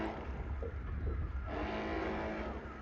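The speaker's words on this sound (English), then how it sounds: "engine's coming over into astern, and then we're starting to bring the boat backwards" A boat engine shifts into astern while manoeuvring into a marina berth, giving a steady, close, low rumbling drone with watery wash underneath and a slight change in tone midway.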